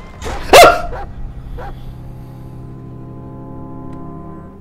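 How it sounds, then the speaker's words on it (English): A single sharp dog bark near the start in the horror game Layers of Fear (Inheritance DLC), followed by a low steady ambient hum with no talking. "I swear, that dog doesn't shut up!"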